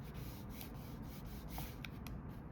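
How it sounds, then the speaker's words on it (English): A hand lightly rubs the surface of a glue-sealed, bulky paper envelope, giving a steady, quiet papery friction with a few faint brushing strokes. "It's okay if you have a couple of air pockets. Try and sort of lightly rub them out the best you can."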